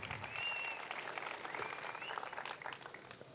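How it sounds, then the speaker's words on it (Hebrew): An audience at a high school graduation ceremony claps for a few seconds, a moderately distant wash of applause that swells early and slowly thins out. "אפשר למחוא כפיים, מה יש? מגיע."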